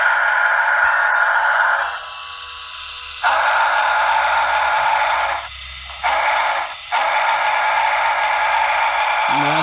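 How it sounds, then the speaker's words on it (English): A model of steam locomotive 611 sounds its whistle from a sound unit in several loud, sustained chime-like blasts of differing lengths, with abrupt cutoffs and short gaps between them. "Let's take a listen to the whistle."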